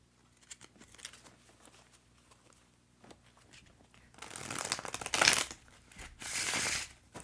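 Tarot cards riffled together in a bridge shuffle, a bright papery burst of rapid fluttering that swells loud for a second or two, after softer handling and light card taps, with no talking.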